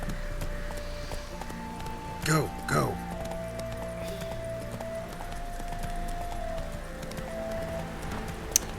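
Hooves of Roach, Geralt's horse in The Witcher 3, clop along under a steady game soundscape while a voice speaks briefly.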